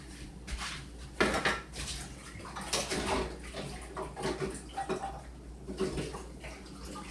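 A bowl is set out and handled in a home kitchen, with a run of clinks, knocks and clatters of dishes and utensils, some louder thumps, close by and without speech.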